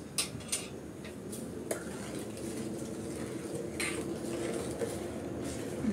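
A spoon scrapes and taps in a pot of milk dessert with sugar and milk powder as it is stirred, soft irregular metallic clinks over a low, steady background.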